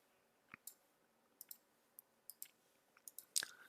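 Computer mouse clicks, faint and close, come in sparse single and double taps over a quiet background, ending in a slightly louder cluster.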